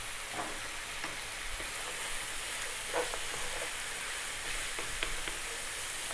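Turmeric, cumin and chili powder sizzle steadily in a hot pan, a continuous bright hiss with a few soft pops and crackles scattered through, close and even, with no talking.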